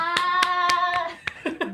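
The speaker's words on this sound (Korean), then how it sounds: "박수와 함께 등장." Several sharp, evenly spaced hand claps ring out in a Korean talk-show studio as a guest producer walks in, sounding over a sustained tonal hum before a few more scattered claps.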